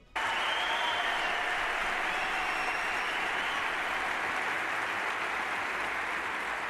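Audience applause at the Madrid Economic Forum starts abruptly and rolls on as a loud, even, sustained clapping from a large crowd, with no talk over it.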